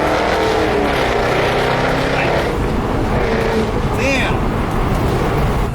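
Jaguar F-Type engine pulling hard under acceleration from inside the car, a loud continuous roar rising in pitch, with voices talking over it.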